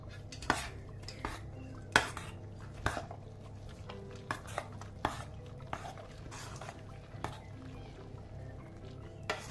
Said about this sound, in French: j'introduis mes carrés de jambon.